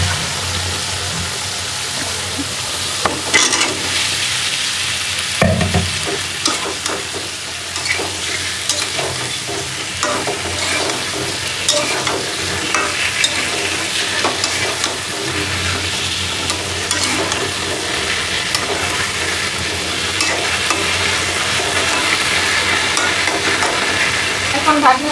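Crabs tossed into a pan of spice masala and stir-fried, a loud sustained sizzle with a sharp burst as they go in, followed by continuous scraping and stirring throughout.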